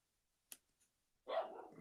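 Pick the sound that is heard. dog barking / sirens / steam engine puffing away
dog barking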